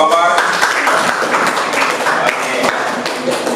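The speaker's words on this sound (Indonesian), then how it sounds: "tepuk tangan buat kelompok kompor." Classroom students applauding a group after its presentation, a scattered burst of hand claps with uneven sharp taps mixed with murmuring voices throughout.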